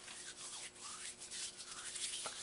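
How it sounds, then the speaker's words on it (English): Dry, crunchy skin of hands rubbing together after days of gardening work, a close, continuous rasping friction with uneven surges, heard alone. "That's the sound of crunchy, dry skin"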